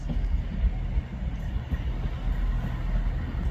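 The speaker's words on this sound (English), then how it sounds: "Arriving in now is the 14:53 ScotRail service from Edinburgh Waverley to Dundee" ScotRail service from Edinburgh Waverley to Dundee arriving at Ladybank station, a steady low rumble of the train rolling in close by, with faint wind over it and no talking.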